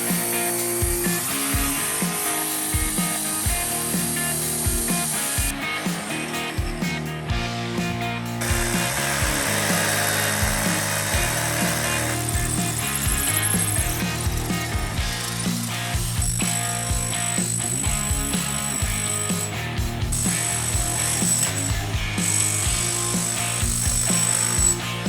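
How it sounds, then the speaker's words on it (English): A circular saw fitted with a diamond blade grinds through a concrete slab, producing a loud, continuous, gritty roar with shifting pitch and load for the whole stretch, close to the listener and without speech. "Our circular saw with a diamond blade"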